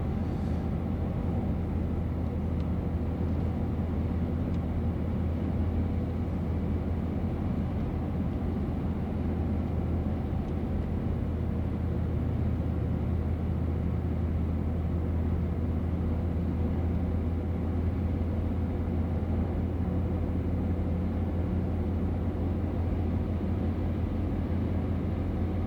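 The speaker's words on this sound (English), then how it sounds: "You can't hear the diesel rattle from inside the truck when you're driving." The 6.5L turbo diesel in a Blazer truck rumbles steadily, a loud, constant low drone with no break and no voices.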